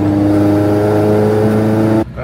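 Seat Ibiza race car on the Brands Hatch circuit, its engine droning loud and close at steady high revs from the cabin, then dropping sharply as the throttle lifts at the end.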